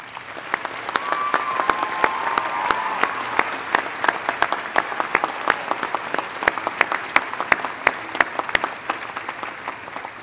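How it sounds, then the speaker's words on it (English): Commencement ceremony audience applauds faculty and staff, a fairly faint wash of clapping in a large hall with many sharp individual claps standing out, plus a brief high whistle early on. "let's give our faculty and staff a round of applause"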